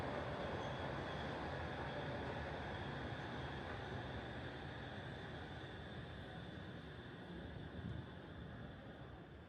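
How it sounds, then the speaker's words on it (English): Steady, distant rumble of trains arriving and departing a station in Kamakura, Japan, with a continuous broadband hum, fairly even throughout, slowly easing toward the end, no voices. "we could see the trains coming in and out"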